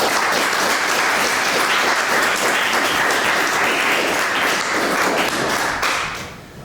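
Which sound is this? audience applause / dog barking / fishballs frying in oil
audience applause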